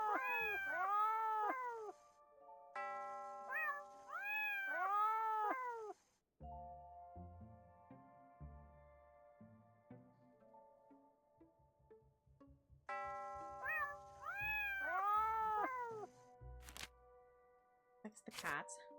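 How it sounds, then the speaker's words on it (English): Repeated cat meows in two bursts, loud and close, with a quieter stretch of clicks and tones between them; talk runs alongside. "That's the cat."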